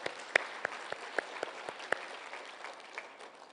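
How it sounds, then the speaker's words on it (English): Scattered handclaps break into a crowd's applause at an outdoor burial ceremony, sharp individual claps ringing out over a steady murmur of clapping that gradually thins toward the end. "I suggest we give him a big, big clap."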